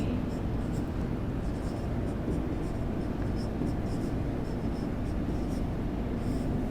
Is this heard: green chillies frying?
no